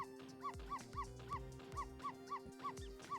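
A dog in the video game Ghost Trick gives a steady run of short, regular barks and yips, each evenly spaced, with faint game tones sustained underneath.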